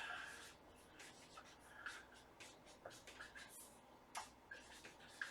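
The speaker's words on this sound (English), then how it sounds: "All right, let me write this first one down before I forget." Marker writing on a surface, faint quick squeaky strokes and rubs in short bursts, quiet and close.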